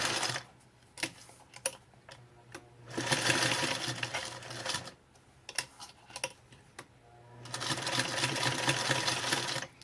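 A sewing machine stitches in two long, steady bursts with ticking and clicking pauses between them, close and moderately loud.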